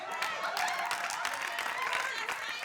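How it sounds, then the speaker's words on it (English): Studio audience clapping on a talk show, a steady dense patter of many hands sustained throughout at moderate level, with faint voices mixed in. "Stop all that bull clapping"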